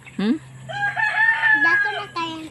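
A rooster crows loudly nearby, a long drawn-out cock-a-doodle-doo, with a short squawk before it and another crow beginning at the end.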